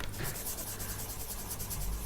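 Beige sienna coloured pencil rubs steadily across paper over a layer of watercolor pencil, a soft, even scratchy shading sound, close and quiet, continuous strokes with no talk.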